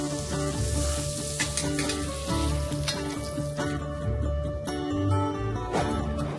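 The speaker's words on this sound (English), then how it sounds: "This sear will get a bit of colour onto the surface of the rack" A rack of wild game sears in a hot pan, giving a steady, loud crackling sizzle with sputtering pops and the occasional stir or shift of the meat throughout.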